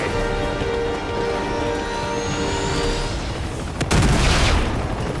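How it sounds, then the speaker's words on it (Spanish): Missile fire from an attacking helicopter in the PS4 game Uncharted 2, a dense crackling barrage of explosions and gunfire with a sharper, louder burst near the end, no speech. "Un helicóptero me está lanzando misiles, tío."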